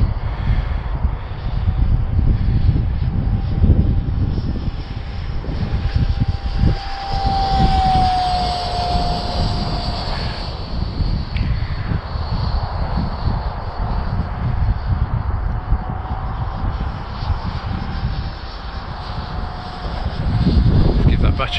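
Electric ducted fan balsa scratch-built model of a Folland Gnat jet flying in wind on its maiden flight, a steady whining fan roar that rises and falls as it passes, with wind noise and people talking throughout.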